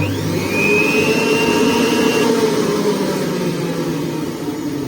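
A Juilist 800W centrifugal juicer runs at its lowest speed, giving a steady, loud motor whir with a high whine. It holds constant throughout with no talk over it.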